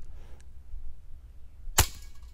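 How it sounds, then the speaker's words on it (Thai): A Hi-capa 4.3 airsoft pistol fires a single BB at a target, one sharp crisp pop close by, preceded by quiet room noise and a faint click, with no talk. "อันนี้ผมจะยิงเป้า ด้วยลูกกระสุนนะฮะ"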